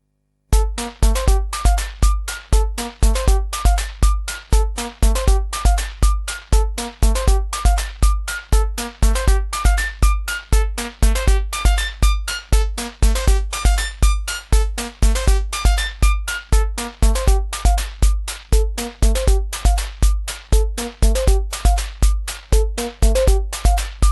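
Steady drum pattern triggered by an Arturia BeatStep sequencer, joined by a CV-synced synth playing a repeating melodic sequence on top, loud and even throughout with no talking.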